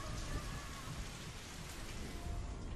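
Heavy rain from a Super Smash Bros. Ultimate game trailer hisses steadily as a dense, even wash of drops, loud and continuous with no voices.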